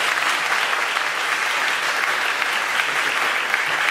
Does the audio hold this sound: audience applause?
yes